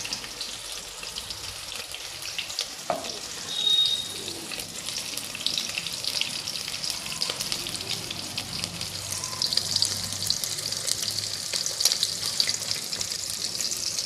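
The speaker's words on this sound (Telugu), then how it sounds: "ఉల్లిపాయలు కూడా బాగా వేగాలన్నమాట" Onions and green chillies fry in a pan, a steady broadband sizzle and crackle running throughout at moderate level with no talking.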